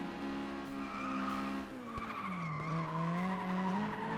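Cars in the racing video game FlatOut 2 skidding with long tire squeals over droning engine tones, a continuous moderately loud screech with shifting pitch and no talk.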